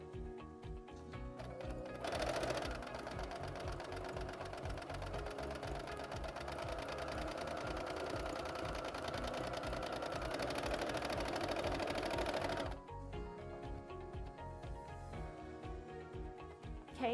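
Sewing machine stitching a straight seam, a steady rapid mechanical whir that runs loud and continuous through the middle, softer at start and end, with no talking.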